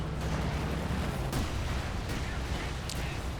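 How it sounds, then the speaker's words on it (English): An incendiary barrage from Stukas in Company of Heroes 2 hits as a dense, continuous rumble with several heavy booming impacts spaced a second or so apart, loud and close, under faint game noise. "Shouldn't use the incendiary barrage from the Stukas of Foos there."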